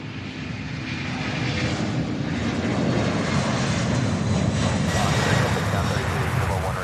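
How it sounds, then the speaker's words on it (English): An Airbus A300 jet at Louisville airport, bound for Sacramento, gives a steady, fairly close engine roar with a broad rushing hiss that holds throughout. "It's an Airbus A300 heading to Sacramento, California."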